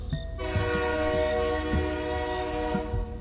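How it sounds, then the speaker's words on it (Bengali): A train sounds a long, loud, steady whistle blast and pulls away, the horn sustained over a low rumble of rolling wagons with faint rhythmic knocks underneath, close by. "হুইসেল দিয়ে ট্রেন ছেড়ে দিল"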